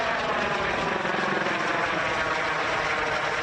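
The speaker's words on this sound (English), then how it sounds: "a helicopter flew overhead" A U.S. Customs and Border Protection helicopter flies overhead near Organ Pipe in the Arizona desert, its rotor and engine roar loud and steady throughout, with no voices.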